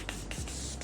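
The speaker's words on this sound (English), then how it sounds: "I'm just gonna go in, shake it, and spray." Makeup setting spray mists out in a few quick, close, soft hissing puffs with slight scratchy noise between them.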